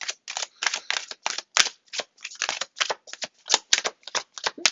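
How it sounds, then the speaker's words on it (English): Tarot cards being shuffled and drawn: a fast series of crisp, close riffling bursts and flicks, separated by brief pauses, with no talking. "Let's get 2 more cards and see."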